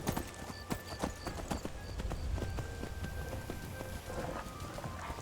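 Horse hooves clip-clopping in the video game Skyrim, a quick steady rhythm of hard hoof strikes close by, layered over a rain-like hiss and faint tonal game sounds.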